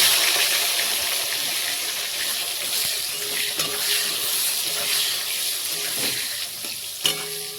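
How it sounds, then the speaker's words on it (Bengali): Eggplant pieces fry in hot mustard oil seasoned with a little turmeric. A loud, steady sizzle runs throughout, broken by a few soft stirring clinks near the close. "তেল গরম হয়ে গেছে, এবার বেগুনগুলো ভেজে দিচ্ছি।"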